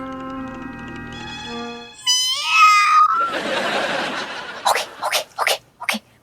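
A woman imitates a cat meowing as a signal, a drawn-out nasal mew followed by high squealing cries, then a noisy breathy stretch and a few sharp bursts near the end.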